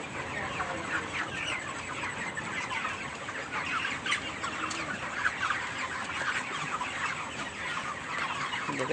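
Broiler chickens cluck continuously in a poultry shed during hot midday weather, making a dense, steady chorus of many birds with no talking.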